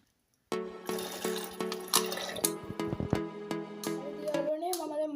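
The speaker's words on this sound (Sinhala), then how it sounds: "මම දැන් මේකෙන් වතුර ටිකක් මෙන්න මේ භාජනයට දාගන්නවා." Water from a fish bowl is poured into another container, splashing and trickling close by with ringing, watery tones that shift and rise near the end, after a short silent start.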